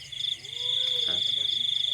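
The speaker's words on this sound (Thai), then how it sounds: "ตอนนี้รู้สึกว่าเสียงมีเสียงจิ้งหรีดนะครับ" Crickets chirp outdoors at night in a steady, shrill, continuous trill that hums faintly in the background, with a brief rising whistle-like sound partway through.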